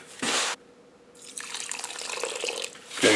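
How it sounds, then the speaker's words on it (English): Tap water poured into a box of kosher salt to make a paste for salt-crusted rainbow trout, a short splashing burst, a pause, then a longer steady trickle of running water and another splash at the end. "we're just going to add a little bit of water to it until it gets to be like a nice, like a paste"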